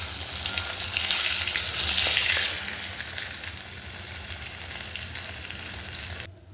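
Fish pieces frying in hot oil in a pan give a steady, close sizzle and crackle that swells briefly and then holds even before cutting off sharply at the end.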